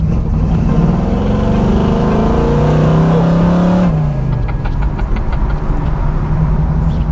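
A 1968 Firebird engine with a slight stumble idles roughly nearby, its pitch wavering and dipping unevenly before settling into a steady, lumpy rumble.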